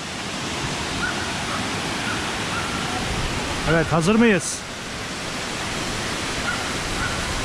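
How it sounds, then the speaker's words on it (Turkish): A waterfall in Artvin gives a steady, broad rushing hiss from start to finish, with people speaking briefly over the constant roar of the water. "İşte şelale."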